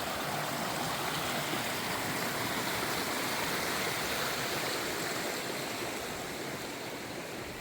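Mountain creek water rushing steadily along a hiking trail between Atlantic Creek and Reynolds in Glacier National Park, a dense, unbroken roar of flowing water heard close and alone for several seconds.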